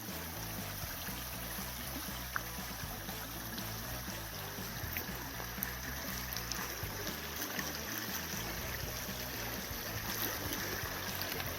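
Lick Creek flowing along the Appalachian Trail in Virginia near a footbridge, a steady close rushing and trickling of water with no voices.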